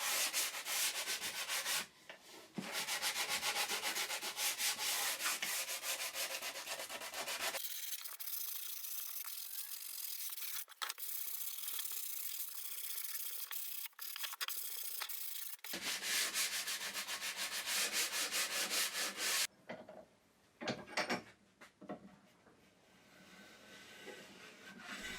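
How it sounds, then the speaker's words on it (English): Steady hand sanding of a wooden picture frame with sandpaper, a continuous scratchy rubbing that runs on with brief pauses and changes in stroke, close and fairly quiet, no talking. "Finally, a small amount of sanding to the surface."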